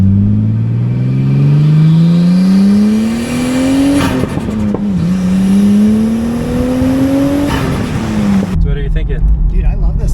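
A Nissan Skyline R34 GTT engine revs up loudly and close, rising in pitch through two long pulls with a brief shift between them, then settling to a lower idle-like drone at the end.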